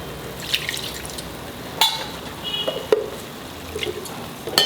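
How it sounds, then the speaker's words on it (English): A container being rinsed under running water at a kitchen sink while cooking a dry shrimp curry: soft, faint splashing and dripping with a few light clinks, and no voices. "Wash this container."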